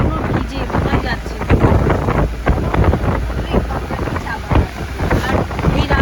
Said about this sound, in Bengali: বাইরে প্রচণ্ড ঠান্ডা হাওয়া দিচ্ছে